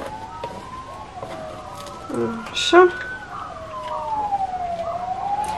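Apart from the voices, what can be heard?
passing ambulance siren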